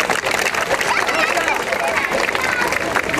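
Dense, loud applause mixed with crowd murmur fills the air without a break, honoring two volunteer medics from a local guesthouse at a historical battle reenactment held at a bunker.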